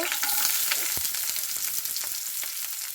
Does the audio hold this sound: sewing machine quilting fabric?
no